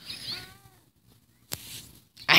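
A cat meows in a horror-themed video game, a short rising cry near the start followed by a quiet gap and a couple of sharp clicks or bumps toward the end.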